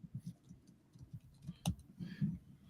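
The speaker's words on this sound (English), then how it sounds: "I'm just typing what I wanted to say to that" Light, irregular tapping of keys on a computer keyboard, quiet and close, with a sharper click near the middle and a brief burst of faster keystrokes after it.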